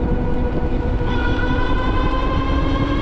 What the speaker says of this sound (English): You can hear that motor racing.